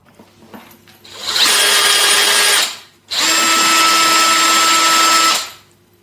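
A flexible shaft drain cleaning machine with a rotary shaft socket runs in two loud bursts of steady high-pitched motor whine, each about one and a half to two seconds long, with a short pause between them.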